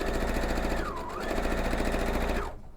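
A sewing machine stitching a quilt block runs steadily with a fast, even mechanical chatter, close and loud, slowing briefly mid-way before stopping abruptly near the end.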